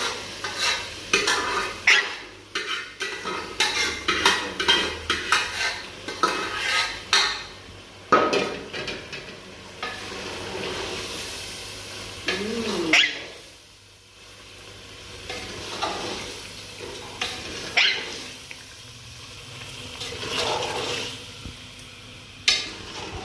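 A spoon stirs potatoes and spices as they roast in a hot pan, with scraping and clinking against the metal, soft sizzling in between, and brief pauses and knocks, close and uneven.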